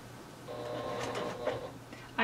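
A sewing machine with a zipper foot stitches close to the edge of a pencil pouch seam, a short quiet run of rapid mechanical whirring that ends in a louder clunk.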